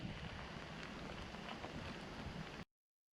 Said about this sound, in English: The weather didn't get better, so we started our ascent in the rain.